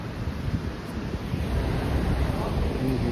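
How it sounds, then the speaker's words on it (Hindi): Wind blowing hard in Mana Village, a high mountain village, as a steady rough roar buffeting the microphone, growing slightly stronger midway, with no other clear sound. "यहाँ पे हवा चल रही है तो ठंड लग रही है।"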